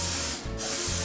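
Cooking spray hisses onto the bottom of a cake pan in two loud, close bursts separated by a short gap, with no voices.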